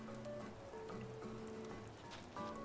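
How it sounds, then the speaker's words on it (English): Rain falls in Animal Crossing: New Horizons as a soft, even patter of raindrops under gentle melodic game music, faint and continuous without talk. "now that it's raining"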